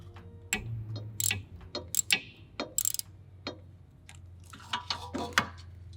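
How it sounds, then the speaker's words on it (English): A 5mm Allen key removes the single bolt holding the rear ABS sensor on an MK5/6 GTI, heard as quiet, close metallic clicks, taps and scrapes in irregular bursts. "you just use a 5mm Allen key to remove that."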